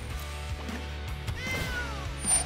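A cat creature meow effect from the MTG Arena digital card game during a Jeskai Fires Standard match, a drawn-out tonal meow rising and falling over steady low game music and background hum.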